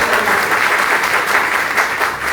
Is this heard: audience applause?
yes